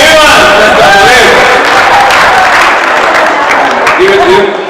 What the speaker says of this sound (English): Let's clap for Ivan.